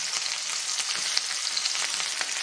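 Whole cumin seeds and onions frying in hot oil in a pan, a steady close crackling sizzle throughout with no talking.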